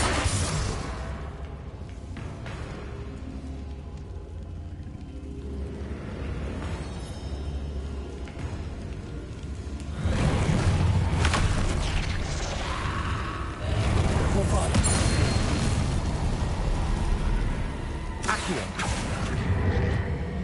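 Bombarda and Confringo spell explosions in the Hogwarts Legacy video game: busy combat noise swells into a couple of loud, sustained booming bursts through the second half.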